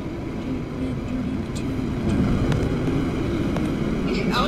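Jet in the Roblox video game, a steady low rumbling engine roar that swells slightly partway through and continues alone.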